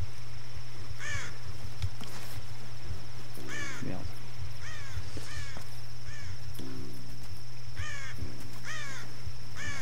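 Crows caw repeatedly in the Tomb Raider video game, in harsh bursts spaced a second or two apart over a steady droning ambience, with a man briefly muttering once.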